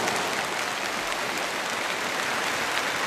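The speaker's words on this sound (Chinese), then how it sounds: "要请大家把掌声送给我身后的这位美丽的舞者" Sustained applause from a concert audience for a hearing-impaired dancer after her piano-accompanied performance, a steady dense wash of clapping that stays loud and even throughout with no talk.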